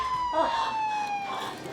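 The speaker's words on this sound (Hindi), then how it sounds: "घर पे कैसे आई एम्बुलेंस?" An ambulance siren wails nearby at a residential building, a steady, sustained electronic tone with a slowly falling pitch that carries on throughout.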